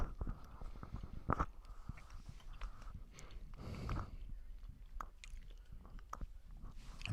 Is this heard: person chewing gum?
yes